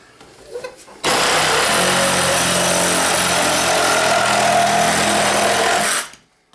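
A DeWalt DCS380B reciprocating saw buzzes loudly and steadily for about five seconds while cutting through clamped material, starting abruptly and winding down at the end.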